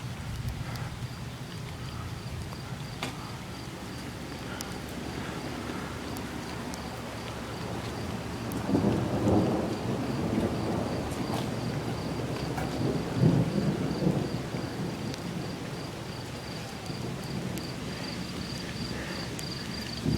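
A summer thunderstorm builds from steady rain into a long, rolling rumble of thunder. The thunder swells twice, while insects chirp faintly underneath and no one speaks.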